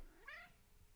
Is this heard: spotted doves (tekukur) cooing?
no